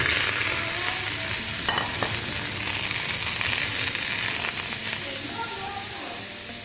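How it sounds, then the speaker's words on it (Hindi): Chicken for shawarma is spread on a tawa griddle over a low gas flame and sizzles in a steady, loud hiss with a few scraping knocks, fading slightly toward the end. "अब ये तवे के ऊपर हम इस चिकन को फैला देंगे।"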